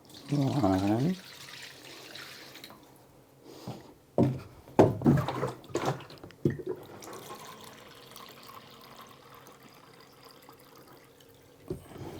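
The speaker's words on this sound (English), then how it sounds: "it's time to add the water." Water poured in several separate splashing bursts into a mixing bowl for a tripled cordyceps culture broth recipe, with quiet gaps between pours and a brief knock near the end.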